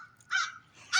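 A crow caws twice outdoors, two harsh, fairly close calls with a short gap between them and no talking.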